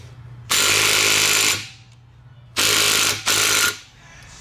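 An impact wrench works on a KTM 300 two-stroke engine, firing three loud, harsh mechanical bursts: a long rattling run, then two shorter ones in quick succession, with quiet pauses between.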